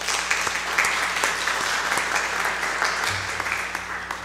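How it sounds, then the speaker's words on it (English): Church congregation applauding for volunteers, a steady, moderately close round of clapping from many hands lasting a few seconds. "a big round of applause for all the volunteers that worked Squarefest"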